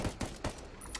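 Bursts of gunfire in the tactical shooter game Ghost Recon Wildlands, three quick sharp shots in a row near the start, then a softer trailing shot.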